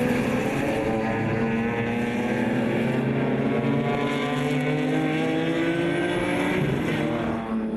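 BMW club race cars in a Class C pack battling through a lap on a circuit, engines roaring loud and continuous with shifting pitches as several cars pass close together, no talk.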